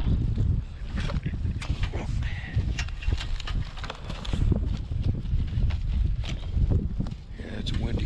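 Wind blowing outdoors during street scrap and steel collecting, a steady low rumble with microphone buffeting that persists throughout, with faint clanks of metal scrap in the background.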